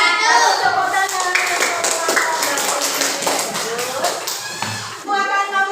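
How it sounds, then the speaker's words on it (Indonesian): Children in a classroom clap their hands together in a loud, dense burst of rhythmic claps and taps, mixed with lively kids' voices and chatter throughout. "Tepuk tangan"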